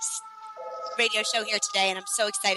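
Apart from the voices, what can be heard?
siren in the background, New York City street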